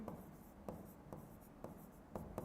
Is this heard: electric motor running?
no